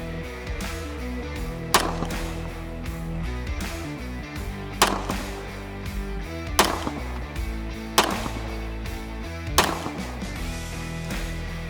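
Five pistol shots fired at a target at 50 yards crack out one at a time, a second or two apart, over a steady tonal background hum.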